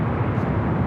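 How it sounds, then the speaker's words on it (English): Delta Airlines Boeing 767-300ER heavy jet arriving at Los Angeles airport from Honolulu, a steady, loud low roar of engines holding evenly throughout, with no voices. "Next arrival is a heavy Delta Airlines flight 427,"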